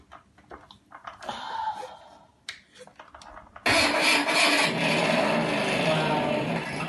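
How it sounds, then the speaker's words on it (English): An RC Batmobile toy powers up: a few clicks and short whirring bursts, then a loud, sustained simulated engine rumble kicks in and holds steady, close and alone. "we're gonna start turning on the engine now."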